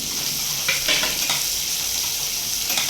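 Onions frying in hot oil in a pan along with peanuts for a bread tiffin, giving a loud, steady sizzle with occasional scraping stirs and crackles, with no talk.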